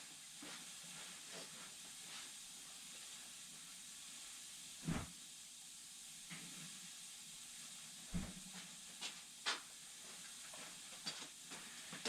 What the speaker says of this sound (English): We're going to let this boil